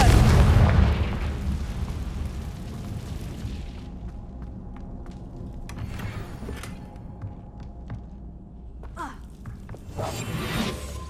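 A Confringo fire spell from the Hogwarts Legacy game erupts in a loud, booming blast at the start, then decays into a low rumbling tail with scattered crackles and a second whooshing burst near the end.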